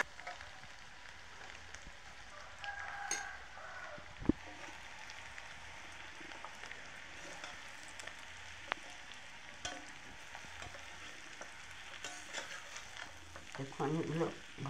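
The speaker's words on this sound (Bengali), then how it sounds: "এখন এগুলো ভালো করে ভেজে নেব" Torn roti mixed with fried potato, coriander powder, chili powder and coriander leaves fries gently in a pan, a faint steady crackle with scattered soft stirring taps and a busier scrape near the end.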